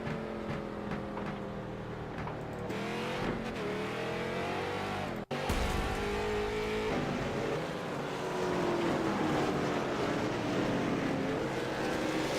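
Race cars circle a track under a yellow-flag caution after two cars spun sideways, their engines a steady, moderately distant drone with rising revs throughout.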